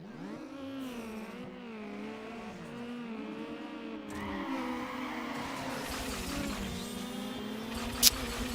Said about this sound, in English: Another over rev.